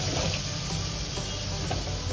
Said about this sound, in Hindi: अब इसको सारा मिक्स कर लेते हैं तरीके से